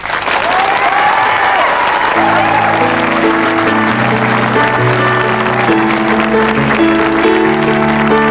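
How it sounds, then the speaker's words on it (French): Audience applause for a singer at a live performance, steady dense clapping heard throughout as music with sustained tones begins underneath. "On l'applaudit."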